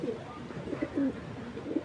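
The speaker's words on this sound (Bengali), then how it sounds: "দেখছেন কবুতরটা কত সুন্দর" Pigeons coo softly in low, rolling bursts at a pigeon dealer's collection, several calls repeating across the short stretch with steady faint background noise.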